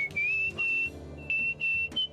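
Whistled melody in the game Where the Water Tastes Like Wine, a clear bright tune of several sustained notes broken by short pauses, heard alone over faint background music.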